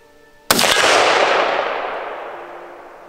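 A single loud rifle gunshot fired at an RA550 hard armor plate during a penetration test, a sharp crack followed by a long ringing, reverberant decay.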